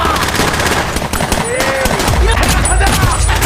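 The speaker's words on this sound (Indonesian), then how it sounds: "Pertempuran di garis depan menjadi semakin sadis, granat dan tembakan ada di mana-mana." Gunfire from a Korean War film battle scene, dense machine-gun bursts and scattered shots under loud, chaotic battlefield noise with deep rumbling booms, continuous and close.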